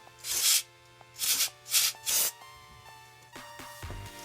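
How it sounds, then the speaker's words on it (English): Four short hissing bursts of aerosol lubricant sprayed into a plastic bag for cleaning longboard bearings, each about half a second, followed by soft crinkling and a light thump of plastic. "spray it into the plastic bag"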